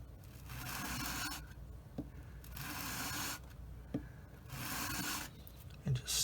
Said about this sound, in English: And just sand it like that to get it really smooth.